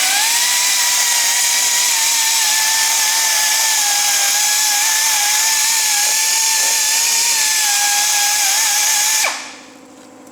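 Blackridge air belt sander runs at high speed removing paint during bodywork, a loud steady pneumatic whine with a grinding edge that cuts off abruptly near the end, no voices.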